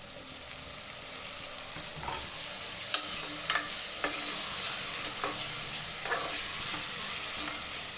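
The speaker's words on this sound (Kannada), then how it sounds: "ಟೊಮೊಟೊ ಹಣ್ಣು ಹೆಚ್ಚಿಟ್ಕೊಂಡಿದ್ನಲ್ಲ ನಾನು ಅದನ್ನು ಸೇರಿಸ್ತೀನಿ" Chopped tomatoes go into a pan with green chilli paste for dal khichdi and are stirred while frying, with a series of scraping spoon strokes over a steady sizzle and no talking.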